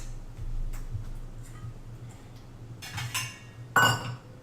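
A separate bowl is taken out in a home kitchen: quiet background, then a couple of brief clinks of dishes and glassware near the end, with one sharper clatter close by.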